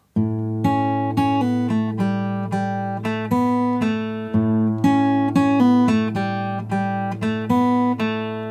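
An acoustic guitar in standard tuning plays a flowing single-note melody, the Friends theme, notes ringing into one another at a steady moderate pace, clear and close.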